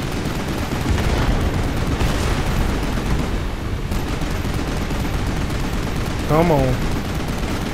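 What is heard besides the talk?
gunshots in video game Final Fantasy XV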